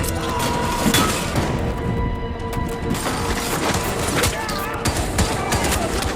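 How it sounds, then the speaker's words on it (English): Dense, chaotic bursts of gunfire and heavy impacts from an action film scene, loud and continuous over several seconds with booming crashes mixed in. "Soon gunshots were heard"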